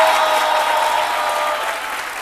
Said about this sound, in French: du coup ils ont commencé à applaudir